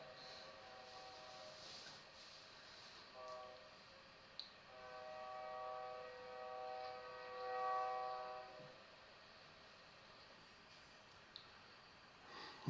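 A train horn sound effect played back for a brute-train gag, faint and distant, with sustained tonal blasts swelling in the middle over a low rumbling background.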